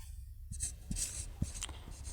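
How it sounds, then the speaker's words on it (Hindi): Chalk or marker writing on a board during a physics lecture, a soft series of short scratching strokes and taps, close and fairly quiet, with no talking. "तो हम लिखते हैं डी ब्रॉगली सजेस्टेड"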